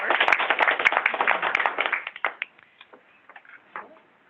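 An audience at an aging-policy subcommittee meeting claps in a dense burst of applause for about two seconds, which then thins out into scattered individual claps and fades.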